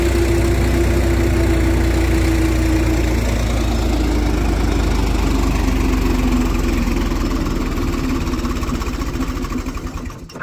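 A 45 hp tractor engine chugs loudly and steadily up close, working an 8-foot rotavator in soil, with a rhythmic mechanical clatter, easing off slightly at the end.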